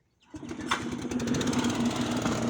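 A Leyland 154 tractor's engine cranks and catches after a short quiet moment, settling into a steady, loud, rough diesel idle with a pulsing low drone and clattering throughout.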